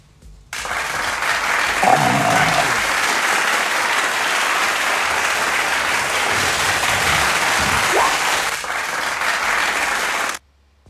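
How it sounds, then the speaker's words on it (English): An audience at a live tabletop role-playing game session bursts into dense, sustained applause. The clapping runs for about ten seconds at an even level, then stops abruptly. "Thank you for those claps."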